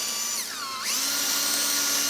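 A power drill spins a deburring bit against the backside of a hole, giving a high whine that dips in pitch under load and then settles into a steady drone, close and alone.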